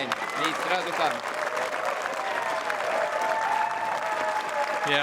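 A crowd at a girls' junior tennis quarter-final between Swiatek and Raducanu applauds and cheers steadily, a dense clapping wash with voices mixed in throughout.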